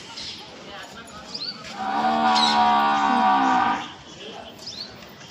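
Tied buffaloes give one long, loud, deep moo lasting about two seconds. It rises out of quiet outdoor background noise and then fades.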